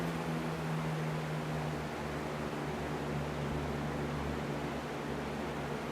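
A 20-inch Aero speed box fan, 2023-24 model, runs at medium power with a steady, even hum and broadband airy whoosh, continuous and close throughout with no voices.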